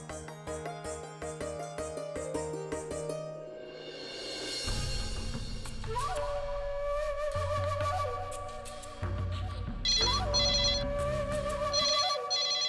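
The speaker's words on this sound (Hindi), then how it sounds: "फोन तो उठा लो।" A telephone rings in a home during a family drama scene, its repeated electronic ringtone pattern sounding steadily over background music for most of the clip, with no one talking.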